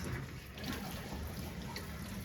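A bathroom tap runs in a steady, soft, hissing stream of water from start to end, heard alone without talk.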